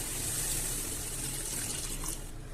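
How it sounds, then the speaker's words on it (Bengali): Water gushes steadily from a vessel into a pan of oil-free rohu fish curry, a continuous close splashing pour that eases slightly toward the end. "এবার আমি জল ঢেলে"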